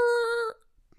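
A voice imitates car tires screeching as a car takes a corner too fast: one short, sustained, high-pitched squeal that cuts off abruptly into silence.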